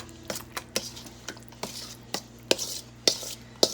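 A spoon stirs homemade tortilla dip in a bowl, giving a close series of irregular clinks and soft scrapes that grow sharper toward the end.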